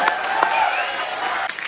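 Studio audience applause on The Kapil Sharma Show, a dense steady wash of clapping lasting the whole stretch at fairly close range, with some tonal murmur beneath and no one speaking over it.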